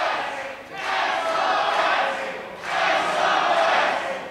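Wrestling crowd at an IWW Whiplash TV show cheering for SOS, two swelling waves of chanting and shouting at moderate distance, rising and falling in rhythm.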